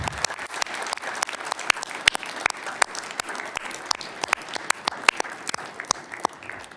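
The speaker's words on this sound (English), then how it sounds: "One last round of applause for all of you that are here today and your families." Audience applause fills a fire protection district meeting room, a dense steady patter of many hands with sharper individual claps popping out, sustained and moderately loud throughout with no talking.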